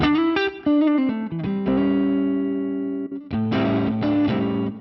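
A Fractal modeler running an ODS 100 Dumble-based amp model, played with electric guitar: a quick phrase of picked notes settles into a sustained ringing chord, then a brighter strummed passage follows, loud and close with a light chorus-like sheen.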